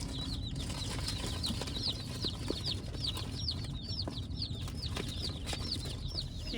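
Chickens on a farm make rapid, repeated high chirping calls close by over a low rumbling background.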